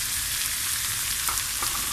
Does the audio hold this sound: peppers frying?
yes